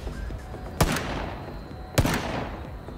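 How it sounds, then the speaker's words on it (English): The R1A revolver in PUBG fires two single, sharp gunshots about a second apart, each loud and close, over a low background hum. "It's a revolver. It's the R1A."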